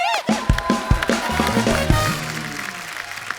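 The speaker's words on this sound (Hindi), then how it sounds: "वेलकम, जोरदार तालियां।" Loud studio audience applause at a Hindi comedy talk show, a dense burst of clapping with a few cheers that swells at the start and slowly thins out, with no talking over it.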